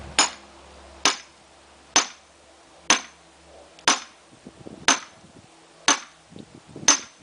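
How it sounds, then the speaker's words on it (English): A hammer strikes a steel splitting wedge driven into a log, eight sharp metallic clanks spaced about a second apart, each ringing briefly before fading, with soft shuffling between blows. "a nice thing about the splitting wedge is you don't have to hit it real hard."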